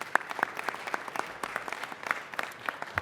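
Applause from an audience at an LA City Council presentation: a smaller group clapping in distinct, uneven claps, moderately close, with occasional sharper individual hand claps standing out.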